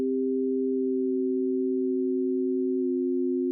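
A pure sine oscillator fifth in Ableton Operator, two steady tones held together that slowly drift out of tune and start to beat against each other.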